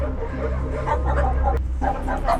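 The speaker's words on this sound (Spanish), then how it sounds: "Hay unos perritos arrinconados, aterrorizados." Frightened dogs cornered at a shelter bark and whimper in a close, busy cluster of overlapping yelps and cries.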